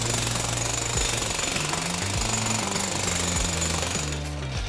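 A jackhammer-type power tool pounds on rock to free a sword in a challenge, making a loud, continuous, close-up hammering rattle that holds steady for the whole stretch.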